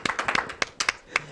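A person claps hands in a short, quick series of about ten uneven claps, close and fairly loud, with no one speaking.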